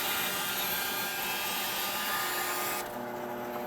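A bandsaw cuts through a log with a loud, steady whirring roar that stays dense and even for several seconds, then eases slightly near the end, with no talk.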